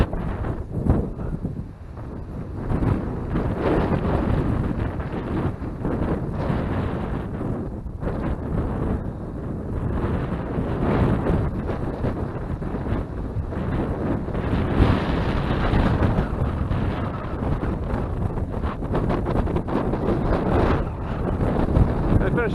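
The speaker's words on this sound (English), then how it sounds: "It's getting really windy." Strong wind roars and buffets the microphone continuously beside a chalk stream, a dense rumbling gust that never lets up.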